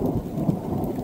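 Low rumbling thunder from cloud-to-cloud lightning overhead during a Cariboo storm with rain, a brief continuous deep roll heard outdoors, fairly loud with no talking.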